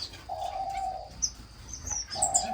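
Finches in an indoor bird room give short, clear chirps and tweets, with a couple of longer sustained calls and scattered high peeps over a soft room background.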